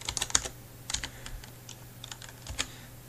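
Keys tapped on a computer keyboard while entering a command in Ubuntu, a quiet, close series of irregular clicks in short bursts with brief gaps between them.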